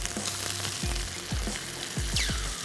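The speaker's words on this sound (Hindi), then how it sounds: "मटर भी फ्राई होना शुरू हो रहे हैं" Green peas frying in a hot pan for a chunky creamy chicken soup, a steady close sizzle with a few soft scrapes and stirring knocks, no talking.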